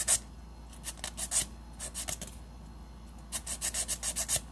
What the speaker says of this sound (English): So when I'm filing an almond short nail, I take it and I file the sides just like you would normally do.